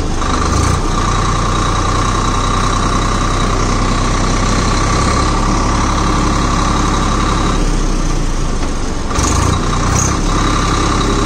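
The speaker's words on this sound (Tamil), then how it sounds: "டிராக்டர் இப்போ லோ ஃபர்ஸ்ட் கியரில் பாருங்கள்," A heavy diesel engine of a Swaraj 744 FE 4WD tractor in low first gear rumbles loudly and steadily close by, with a low throbbing chug and a brief hiss of air partway through.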